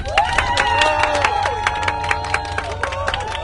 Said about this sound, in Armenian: ձեր հզոր ծափերով կարող եք աջակցել